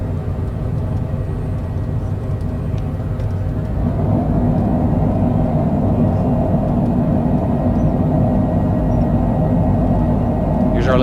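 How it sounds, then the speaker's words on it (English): An airliner landing at John Wayne/Orange County airport in stormy weather gives off a steady, loud roar from its thrust reversers during the rollout, a dense low rumble that grows slightly heavier as it goes. "Reverser's on."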